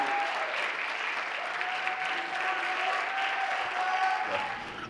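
Steady applause from a crowd fills the whole stretch, dense and sustained clapping at moderate distance without pauses.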